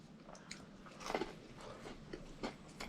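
Biting into the crunchy golden batter crust of fried pike-perch gives a series of crisp, close crunches. A loud burst sits in the middle, with a few softer chewing crackles around it.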